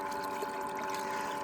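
Water trickles steadily out of two side holes in a bucket used to separate light sand from heavy gold-bearing material, a soft continuous flow with a faint pump-like hum and no talking.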